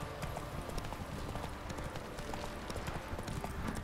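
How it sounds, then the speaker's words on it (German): Hooves of a galloping horse clatter in a steady rapid clip-clop as it races through a castle in The Witcher 3, the beat dense and continuous over ambient game sound. "Galoppieren natürlich jetzt einmal hier quer durch die Burg"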